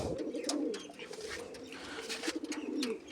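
A loft of pigeons for sale coos in low, rolling murmurs that run continuously through the moment, mixed with scattered clicks and rustling, no talk heard.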